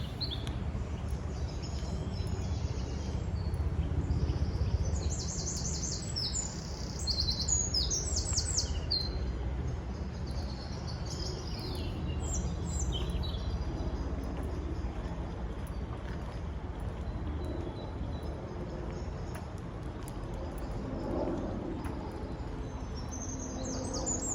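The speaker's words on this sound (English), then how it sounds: "I'm wandering along here because the bird song's beautiful." Birdsong on Hastings West Hill, scattered high chirps and calls from several birds at moderate distance, heard steadily over faint outdoor ambience with no talking.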